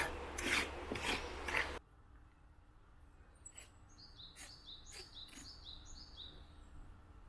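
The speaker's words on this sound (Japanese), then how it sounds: "レベリング剤を入れていく前にブラシで磨いていきます。" A stiff brush scrubs a concrete strip foundation before self-leveling compound is poured, making loud rasping strokes for under two seconds. Quiet follows, with faint birds chirping in the background.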